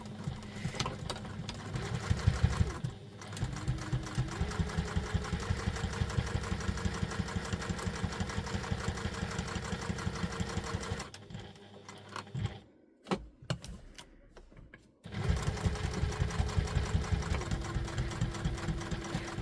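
Sewing machine stitching a wallet, a close rhythmic run of needle strokes for about ten seconds, then a pause with clicks and handling, before stitching resumes steadily.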